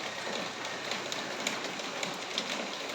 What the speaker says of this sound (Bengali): পুরো মুষলধারে বৃষ্টি পড়ছে